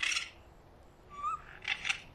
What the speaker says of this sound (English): Raccoon noises.